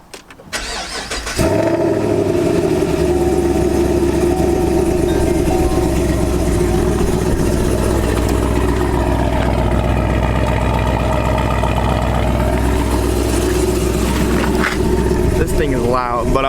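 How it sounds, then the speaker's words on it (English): A Chevrolet SS sports car engine cold-starts with a brief crank, then settles into a loud, steady, deep idle that fills the whole stretch, close by, with a person talking briefly over it. "we're gonna get a nice cold start."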